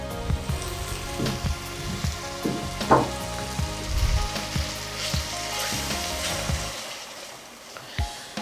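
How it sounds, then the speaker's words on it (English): Blended tomato poured into a pan of frying peppers for a coconut black bean stew, setting off loud close sizzling and bubbling with some stirring, easing toward the end. "So after adding the peppers like that, I'm now going to add the blended tomato."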